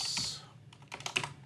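A password being typed on a computer keyboard: a short burst of light, quick key clicks, close and fairly quiet, with a few sharper taps near the end.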